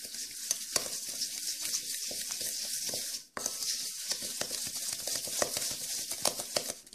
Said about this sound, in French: il nous suffit de mélanger l'œuf avec une pincée de sel et le sucre